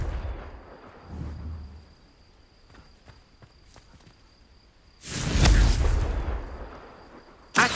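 A Confringo blasting spell in Hogwarts Legacy bursts into a loud explosion about midway, a roaring blast that rumbles for a couple of seconds after quieter footsteps and scattered soft impacts.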